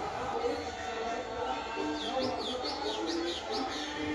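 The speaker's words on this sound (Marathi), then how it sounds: "तर या ठिकाणी पोपटचा आवाज येत होता." A parrot calls at night during a village lamp festival, a quick series of short, repeated chirps sounding moderately close over a steady background hum of crowd and ambient noise.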